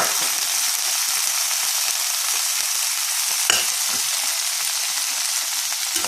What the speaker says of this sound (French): J'ai fait revenir l'ail et l'oignon pendant 3 minutes dans un peu d'huile d'olive. Je vais ajouter le chou-fleur.